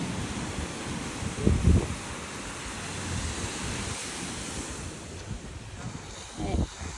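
Ocean waves wash onto a beach in a continuous broad roar, with wind gusting across the microphone and a couple of louder thumps of surf, no talking heard.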